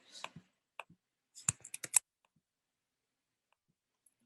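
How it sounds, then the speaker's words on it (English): A camera shutter clicks repeatedly while screenshots are taken: a quick cluster of sharp, close clicks with one or two earlier clicks, then near silence. "You're probably hearing the camera click"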